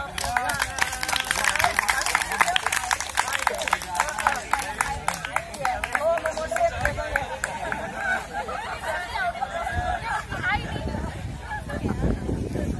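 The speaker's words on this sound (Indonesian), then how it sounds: "tepuk tangan lagi deh" A group at a paintball briefing claps together, a fast, continuous patter of many hands that runs throughout and stays fairly loud, mixed with the chatter and murmur of the crowd.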